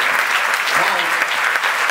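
Audience applause at a communication festival event in Italy, a thick continuous clapping from a crowd, loud and even throughout.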